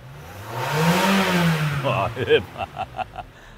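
A car engine revs up and settles back toward idle during a shop check of a misfiring engine, followed by a few short blips, heard close with a voice speaking over it.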